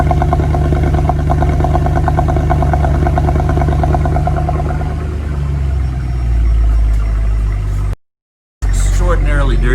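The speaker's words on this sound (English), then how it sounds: "Now that it's through the cold start, that's the rumble." A Mercedes-AMG C63 V8 settles after a cold start into a loud, deep, close idle rumble with a lumpy pulsing throb, briefly cutting out near the end before a voice speaks.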